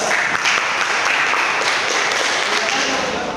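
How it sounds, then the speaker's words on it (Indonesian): Steady, dense applause from a classroom audience after a student group presentation in a vocational high school social work class, sustained and fairly loud throughout with no break. "Beri tepuk tangan untuk kelompok 2."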